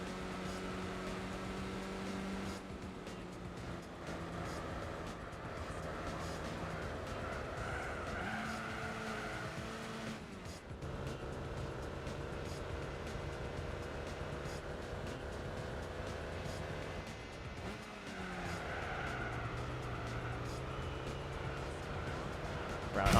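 A Mitsubishi Mirage engine roars steadily at racing speed in Gran Turismo 4, its pitch rising and dropping with gear changes, with tire squeal mixed into the continuous loud drone.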